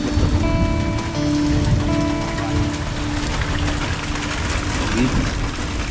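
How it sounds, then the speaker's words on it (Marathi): Heavy first monsoon rain in the Konkan countryside pours in a loud, constant roar of drops, with a low humming tone and faint voices underneath. "जोरदार पाऊस पडतो."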